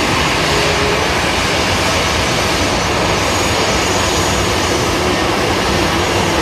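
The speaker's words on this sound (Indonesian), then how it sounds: "ternyata pesawat terbang penumpang Air Asia" An Air Asia passenger airplane roars loudly and continuously, a broad, steady engine rumble and hiss that stays close and unchanging from start to finish.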